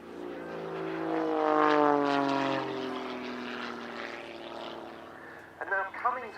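Propeller-driven aerobatic aeroplane, highly modified with a new engine and propeller, performing snap rolls at an airshow; its engine drone rises and falls in pitch through the manoeuvre, loud at first then fading, with a commentator talking over it.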